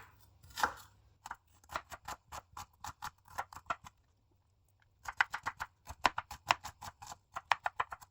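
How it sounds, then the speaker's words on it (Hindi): Four washed onions being sliced with a knife on a cutting board, a quick run of crisp, evenly spaced chops, then a brief pause, then another fast burst of taps, close and fairly quiet. "अब यहाँ पे मैंने 4 प्याज लिए, इनको मैंने अच्छी तरह धो लिया। अब इनकी कटिंग करेंगे।"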